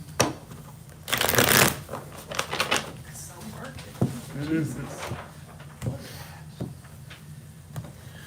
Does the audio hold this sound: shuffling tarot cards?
yes